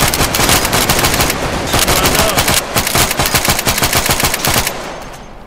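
Small arms fire in the Arma 3 video game rattles out in rapid, loud bursts of automatic shots, a dense close-range volley that runs almost continuously before cutting off near the end.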